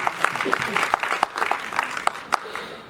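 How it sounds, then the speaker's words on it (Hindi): An audience at a traditional nautanki folk theatre performance applauds a guest with a steady, dense patter of clapping, sharp individual claps popping out of the wash, sustained through the whole stretch at moderate loudness. "मैं चाहूँगा जोरदार तालियां हो उनके लिए।"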